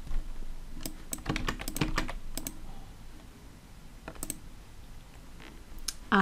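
Computer keyboard typing, with quick close clicks in short uneven runs and pauses, quiet in a calm room.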